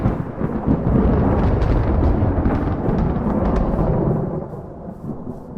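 Thunder from a lightning storm in the video game Minecraft rolls as a loud, deep, continuous rumble with crackling edges, holding strong for several seconds before slowly fading, with no talking.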